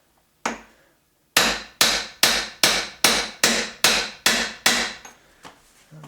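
A hammer drives a remote shaft into an MGB three-synchro gearbox during assembly: one lone blow, a pause, then about nine sharp, evenly spaced metallic strikes, close and loud, with no talking.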